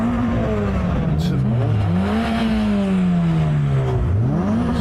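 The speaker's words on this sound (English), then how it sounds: "So they're having a rev off." Several modified cars at a car meet, including an MR2 missing its rear bumper, take turns revving hard in a rev-off, engine pitch rising and falling in loud, close sweeps with no pauses.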